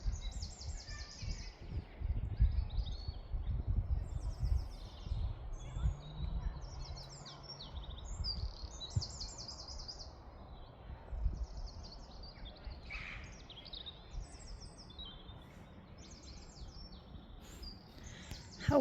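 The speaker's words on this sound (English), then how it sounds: "Can you hear those birds?" Several birds chirp and sing in repeated bright phrases across an outdoor garden centre space, fairly close and clear above a quiet low background rumble, with no talking.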